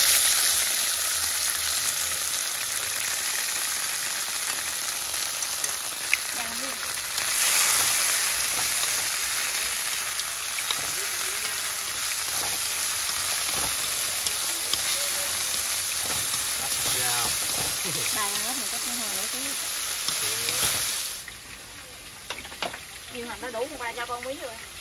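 Stir-frying in a pan during a rural Mekong Delta home meal of chili, shallot, garlic and sliced gourd, a steady loud sizzle and hiss throughout with occasional stirring scrapes and people talking over it.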